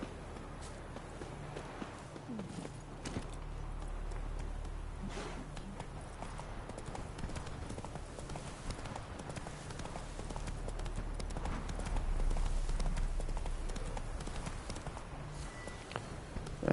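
A horse's hooves clip-clopping at a walk in The Witcher 3: Wild Hunt video game, steady soft rhythmic hoofbeats under low game ambience, quiet overall.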